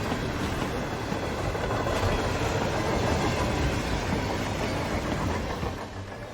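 Rumbling rolling noise of a train running on rails fills the scene in the video game Hitman 3, a steady dense roar with a faint rhythmic clatter, continuous and fairly loud without any talking.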